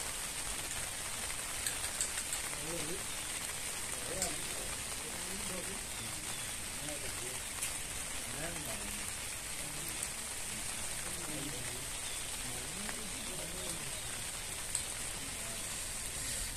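Steady rain falls as a constant broadband hiss with scattered drop taps, quiet and continuous beneath someone talking at the ruins of a centuries-old town.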